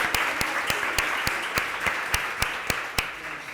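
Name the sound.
audience applause for a speaker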